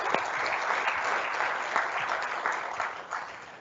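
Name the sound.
audience applause for award nominators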